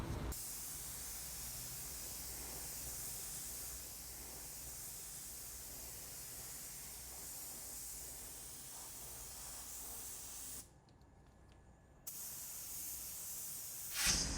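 Black epoxy primer sprayed onto bare metal spots of a 1971 Chevy Caprice: a steady, close spray-gun hiss runs continuously, stops briefly for about a second, then resumes.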